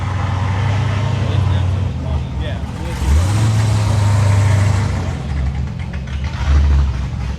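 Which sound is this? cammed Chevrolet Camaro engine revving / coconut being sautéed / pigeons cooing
cammed Chevrolet Camaro engine revving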